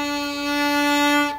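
Bowed string instrument sustaining a single D as two tied quarter notes, one smooth, steady tone with no break between beats, close and clear, ending abruptly.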